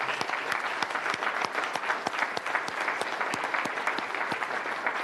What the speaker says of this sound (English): Just give them a round of applause if you don't mind.